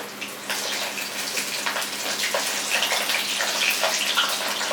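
Washed raw peanuts frying in hot oil for a banana flower mixture, a steady dense sizzle and crackle with a faint low hum underneath, no talk.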